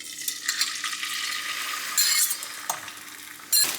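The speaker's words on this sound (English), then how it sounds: "So I'm just gonna do a little bit of a whisk." Eggs are whisked for scrambling, with a run of fast, soft metallic scraping and light clinks against a bowl, close by, broken by a few sharper bursts and with no talking.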